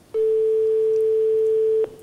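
On a phone call that goes unanswered, a single steady ringback tone sounds for nearly two seconds, clean and constant, starting and stopping abruptly over a quiet line.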